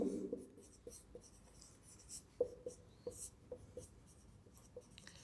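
A pen scratches across paper in short strokes and taps, quiet and close, with brief pauses between marks while a physics problem on a dipole is written out.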